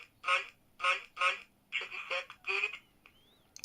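Ringing of a 1989 Soviet-built telephone with AON caller ID, heard as several short, bright electronic ring bursts in a steady rhythm, close by and fairly loud, with no talking.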